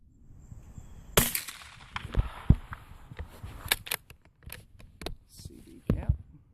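A .22 long rifle CCI Mini Mag round fired outdoors, giving a sharp, fairly quiet crack among several other brief snaps and handling clicks, with sparse background talk.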